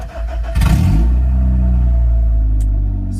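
A daily-driver Honda car engine running with its catalytic converter cut off, starting with a loud raspy burst that settles into a deep, droning exhaust rumble, close and alone.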